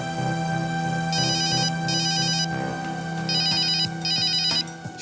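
A phone ringtone plays in repeated electronic melodic bursts, fairly close and clear, pausing briefly between phrases over a steady background tone, with no talking.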